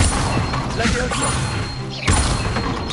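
Spell effect from casting the Leviosa levitation charm in Hogwarts Legacy, a whooshing magical burst with thuds and clattering, heard over dense game sounds and a voice.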